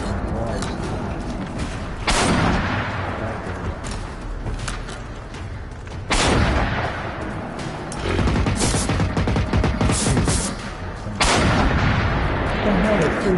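Rocket weapon shots fired in a video game, loud booming blasts recurring every few seconds, several in close succession, over a constant rumbling game backdrop.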